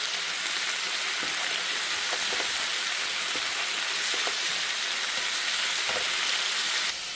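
A mixture cooks in a pan with a little water just added, giving a steady, close broadband sizzle and bubbling hiss throughout with a few faint stirring taps, and no talking.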